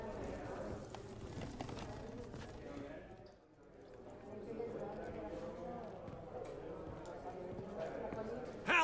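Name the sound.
horses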